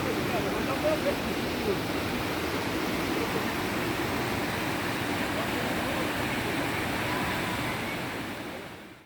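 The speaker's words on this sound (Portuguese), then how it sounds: "Podemos ver a cachoeira dessa ponte aqui, ó." Porteira Preta waterfall in Salesópolis, seen from a bridge, roars as a steady, broadband rush of falling water that stays loud and constant throughout, fading only at the very end.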